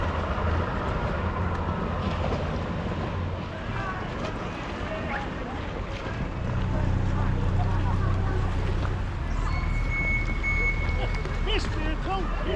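Boat engine rumbling as a boat heads into a sea cave at North Landing, a steady low drone under wind noise and nearby people talking, continuous throughout.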